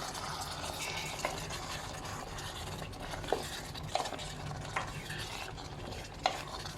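Beef stir-fried with chili curry paste in a pan, a steady busy sizzle with repeated scraping and clinking of a utensil stirring against the metal, close and continuous with no talking.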